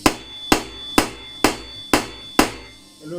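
Six light, evenly spaced hammer taps, about half a second apart, strike a Torx T40 bit to loosen the pulley on an Indesit washing machine. Each is a close, sharp metallic knock that decays quickly.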